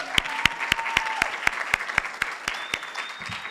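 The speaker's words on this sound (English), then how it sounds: "Let's give them a round of applause." Clapping at a Human Rights Commission event thanking staff: crisp, evenly spaced claps at a steady rhythm of about four per second, near and distinct, with a thin whistling tone in the background.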